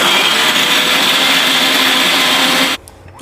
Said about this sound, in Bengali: হাফ পটলটা এখন দিচ্ছি মিক্সিতে একটু ঘুরিয়ে নিয়ে তারপরে বাকি পটলটা আবার দিয়ে দেবো